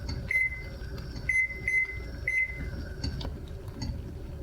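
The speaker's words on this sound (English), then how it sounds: "And now I'm going to start my timer for 1 minute." Timer set while jam comes to a hard boil: a few short electronic beeps in quick pairs sound near the start, against a low rumbling kitchen background with no talk.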